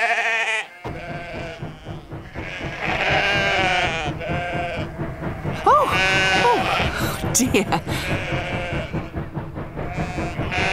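Cartoon sheep bleat repeatedly in wavering, overlapping calls, loud and close, while a voice speaks briefly over them.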